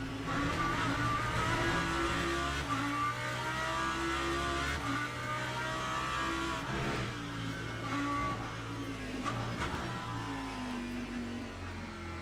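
Porsche race car engine in the Le Mans Ultimate racing game, a steady loud drone that rises and falls with revs and gear changes, with other cars nearby, heard alone without talk.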